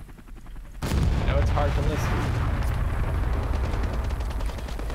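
Gunfire in the video game Call to Arms, with Russian Spetsnaz troops in a firefight. Dense, loud bursts of shots and booms erupt suddenly and roll on continuously while someone talks over them.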